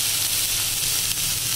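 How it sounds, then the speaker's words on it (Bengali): Grated soybean hits hot masala and oil in a pan, giving a steady, close, loud sizzle and hiss that holds without a break. "এখন এর মধ্যে আমি দিয়ে দেব গ্রেট করা সয়াবিন"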